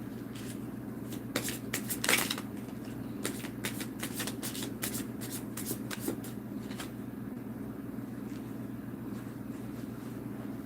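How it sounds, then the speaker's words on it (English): Tarot cards shuffled repeatedly in quick riffling bursts, crisp and close, over a low steady hum, with no talking. "I'll shuffle."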